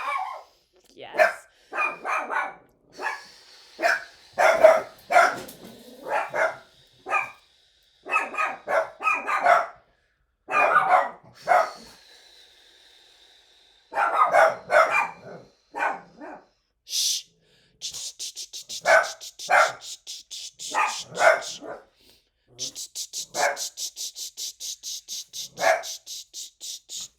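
Dogs bark in short bursts outside after a car door closes, coming in uneven clusters at mid distance between quieter pauses, followed by a run of rapid high-pitched yips near the end.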